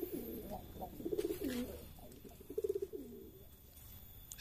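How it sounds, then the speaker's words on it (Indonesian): Pigeons in a cage cooing in soft, repeated rolling bursts, close by and fairly quiet, with a faint background hiss. "Kemudian kita masukkan merpati kita ke kandang."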